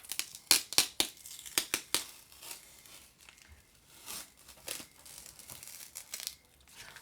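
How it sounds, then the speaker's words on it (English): A sticker peeled off at close range makes sharp crinkling crackles and tearing rasps in quick bursts, then softer intermittent rustles, quiet overall. "Oh, that's sticker, peeling sticker."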